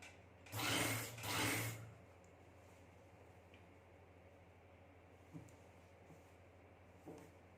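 A sewing machine stitches pintucks on a trouser, running in two short whirring bursts near the start, then leaving a low hum with a few faint clicks.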